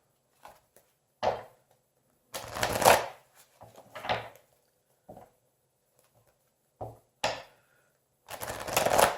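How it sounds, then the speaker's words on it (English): Tarot cards being shuffled in several short, separate bursts of riffling and tapping, close and fairly quiet, with gaps of silence between them. "Let's do a few shuffles here."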